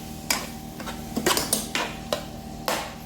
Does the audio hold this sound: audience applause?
no